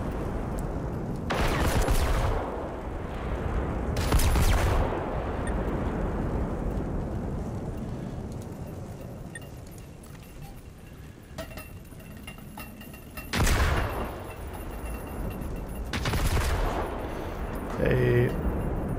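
Bursts of gunfire in the open-world shooter Generation Zero, a few separate volleys spaced several seconds apart over a steady outdoor ambience, moderately loud, with talking mixed in at times.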